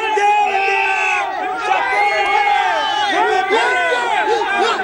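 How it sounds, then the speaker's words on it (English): A crowd of Indian cricket fans cheers "hip hip hooray" for India together, loud and close, a chorus of voices with shouts and whoops rising and falling in rhythm. "So let's do a cheer for India."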